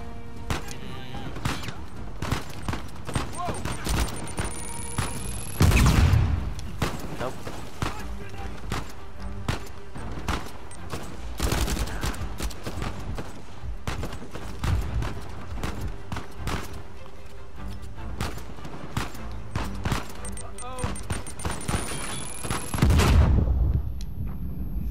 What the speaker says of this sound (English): Saan sila yung bumabaril?